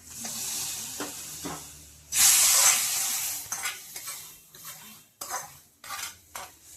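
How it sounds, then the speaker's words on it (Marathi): Hot tempering with asafoetida poured into a gram flour dumpling curry, a sudden loud burst of sizzling and hissing that fades, followed by scattered clinks and scrapes of a spoon against the pot. "हा तडका आपल्याला आपल्या भाजीमध्ये टाकायचा आहे."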